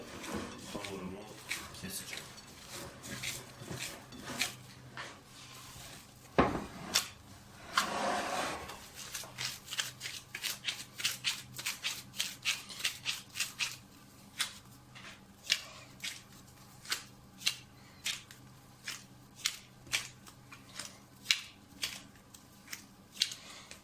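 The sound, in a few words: cutting rolled-out pogaça dough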